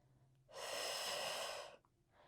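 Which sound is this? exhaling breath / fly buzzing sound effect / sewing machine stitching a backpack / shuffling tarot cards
exhaling breath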